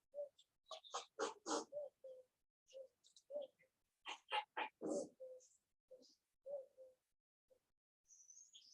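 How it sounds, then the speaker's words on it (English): Pigeons call outside in short, separated bursts of soft cooing and chirping, fairly distant and quiet, with pauses between calls. "You hear the pigeons as well."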